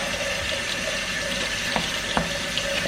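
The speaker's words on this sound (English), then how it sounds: "I am going to just rinse these noodles" Keto ramen noodles are rinsed under a running faucet in a sink, a loud, steady stream of water splashing continuously, with a few small clicks and knocks mixed in.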